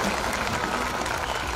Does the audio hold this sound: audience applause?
yes